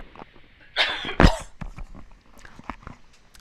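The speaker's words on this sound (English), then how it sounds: "I just have to stop to cough here." A lecturer in a biochemistry class coughs sharply once or twice, a close, loud burst amid a quiet room with faint background noise.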